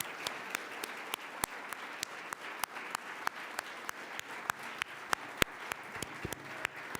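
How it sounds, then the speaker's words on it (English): Applause at a civic club forum honoring a retired state chief justice, with scattered sharp individual claps ringing out over a softer, steady patter from the audience. "Let's give them a round of applause."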